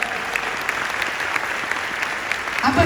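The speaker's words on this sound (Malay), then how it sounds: "Satu tepukan untuk MW kawan-kawan." Audience applause fills the room at a recognition event for MW, steady, dense clapping that swells slightly near the end.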